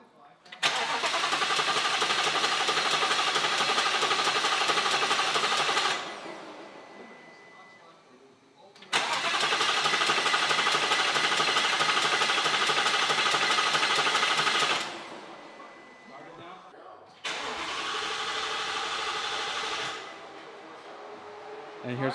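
A boosted Ford Coyote V8 car engine starts three times, and each start gives way to a loud, even idle that lasts several seconds before it shuts off. Voices are heard between the runs.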